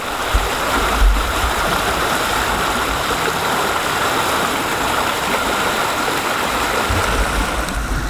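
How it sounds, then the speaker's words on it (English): Rushing tidal water at a New Jersey fishing spot pours as a loud, steady broadband rush with a low rumble underneath, unbroken for the whole stretch. "We got more rushing water here."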